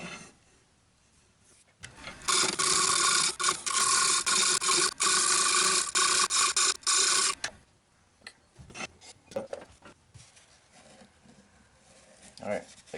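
Woodturning lathe with an abrasive held against a spinning mystery-wood bird feeder, a loud steady raspy rubbing for about five seconds, followed by quieter intermittent scraping and handling noises.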